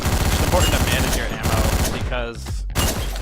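Gunshots in Hotline Miami: rapid bursts of loud, punchy game gunfire in quick repeated volleys, with brief gaps between bursts and a faint background game soundtrack.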